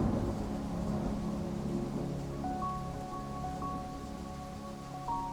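Steady rain patters on a roof with a dense, even wash of drops, continuous and fairly close, with a faint low rumble now and then and no voices.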